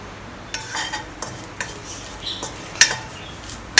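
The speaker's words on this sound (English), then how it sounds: "Make sure you move them around" Grated coconut browns in a pan while a utensil stirs it, giving a series of clinking scrapes against the metal over a faint, soft sizzle.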